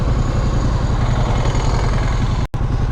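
A Harley-Davidson Pan America motorcycle idles at close range with a steady, even low-pitched rumble and a brief dropout near the end, with no voices present.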